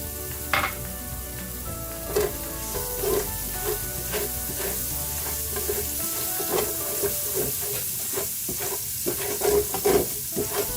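Garlic sizzles in a pan for a pasta sauce, a bright steady crackle with repeated scraping and stirring strokes against the pan bottom.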